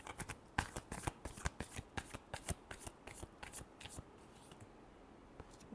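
A deck of tarot cards is shuffled up close, giving a rapid run of crisp riffling snaps and slaps that trail off into a softer rustle near the end.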